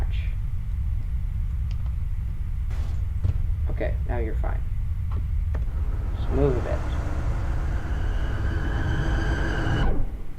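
A vehicle in a video game gives off a steady, low, train-like rumble that runs the whole time beneath a person speaking, with a few brief clicks and tones over it.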